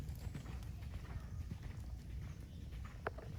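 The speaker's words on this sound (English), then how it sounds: "The canter is nice and forward." Faint, distant hoofbeats of a horse cantering through a show-jumping course, a soft steady rhythmic thudding over muffled background noise with one brief sharp sound near the end.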